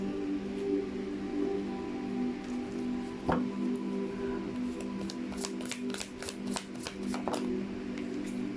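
Tarot cards being shuffled and pulled, soft papery riffles and slaps building into a rapid run of crisp flicks near the end, close, over a steady low background hum.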